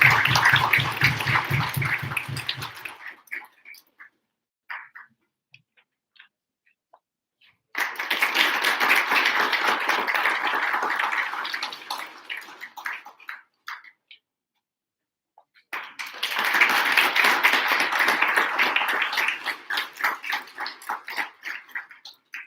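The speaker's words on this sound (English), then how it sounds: "Let's have a huge round of applause," An audience at a panel discussion claps in three separate bursts of dense applause, each lasting several seconds and each trailing off into scattered claps before a silent gap.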